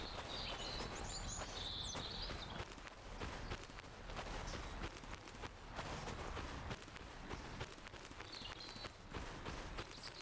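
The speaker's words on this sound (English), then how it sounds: "Those birds are really loud." Video-game birds chirp in a few short bursts early and again near the end, faint and set over a low background of game sounds.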